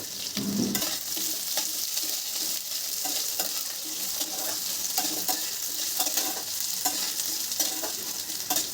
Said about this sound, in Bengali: এবার তেলের মধ্যে আলু আর পটলটা দিয়ে কিছুক্ষণ ভাজবো।